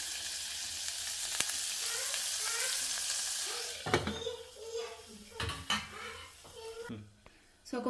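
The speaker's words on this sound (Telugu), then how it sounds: "కొంచెం ఒక 5 మినిట్స్ మనం ఆయిల్లో దీన్ని డీప్ ఫ్రై లాగా చేసుకుందాం" Chickpeas deep frying in oil in a pan: a steady, bright sizzling hiss, then clanks and rattles as a lid goes on and the sizzle turns muffled, with a faint voice nearby.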